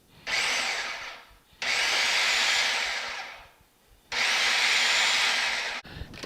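A food processor pulsing salsa ingredients in a restaurant-style Mexican salsa, three long loud whirring bursts with brief pauses between them, close up and with no talking.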